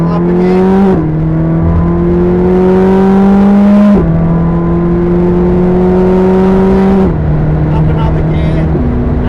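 A McLaren 620R at full throttle on the Silverstone circuit, engine droning loud and close as it climbs in pitch through each gear, with sharp drops at shifts and a voice talking over it.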